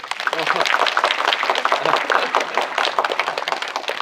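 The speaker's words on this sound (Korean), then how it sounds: "박수 주세요" Audience applause at a special screening Q&A for the animated film Alsatang, dense and sustained with mixed crowd noise and possible voices, fairly loud throughout.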